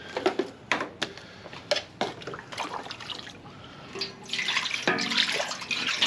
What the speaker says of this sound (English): giving this a rinse out